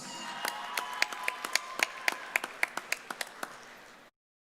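Sparse applause for graduates at a Fall 2020 commencement, a small number of hands clapping in a steady rhythm of distinct claps that stops abruptly, leaving silence.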